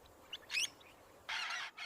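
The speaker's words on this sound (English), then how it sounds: "They are loudly joined by vibrant sulfur-crested cockatoos, aggressively screaming directly from the green trees." Sulfur-crested cockatoos scream from trees in short, harsh, raspy bursts: one early cry and a longer screech later, followed by another, all fairly faint and distant with no talking.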